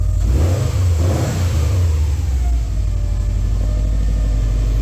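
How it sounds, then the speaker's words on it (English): A Subaru STI fitted with a Cobb SF intake revs once, its engine note climbing then falling back, loud and close, before settling into a steady idle. "Just a little rev, just a little one. Ooh, you can hear it."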